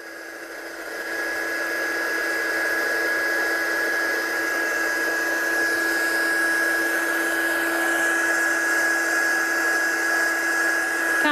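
A heat tool starts up and blows steadily to dry ink on a card, a loud, constant whirring hiss with a fixed high whine that runs unbroken to the end.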